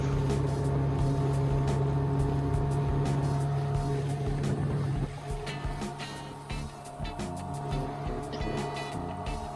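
An outboard motorboat planing at 40% throttle at about 20 km/h, loaded to roughly 320 kg total, gives a loud, steady engine drone with hull and water rush; the tone drops and roughens slightly midway.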